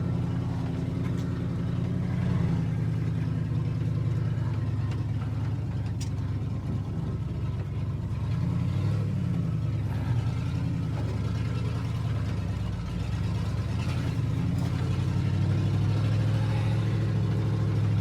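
A 1978 Ford F-250 truck with an old granny transmission pulls off slowly in second gear, its engine a deep, steady, close rumble that lugs and swells slightly throughout, with no talking.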